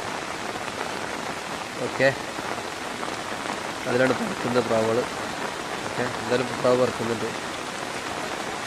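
Heavy rain pours down in a steady, dense hiss from start to finish, while someone talks over it at intervals.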